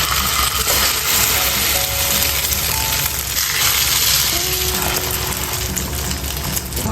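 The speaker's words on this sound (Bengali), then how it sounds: "ভাজা স্টার্ট হয়ে গেছে" French toast fries in a pan, giving a loud, continuous crackling sizzle with a few faint tonal clinks, steady throughout and without voices.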